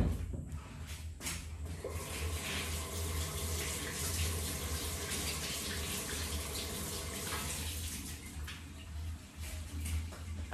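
Tap water runs steadily into a sink while tomatoes and ginger are rinsed under it, a continuous close splashing stream with a few small knocks at the start.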